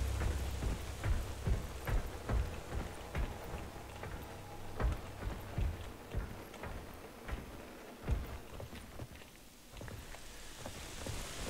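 Steady rainfall in the survival-horror game Daymare: 1998, a dense broadband patter with scattered sharper drop ticks and occasional low rumbles, continuous and fairly loud throughout with no voices.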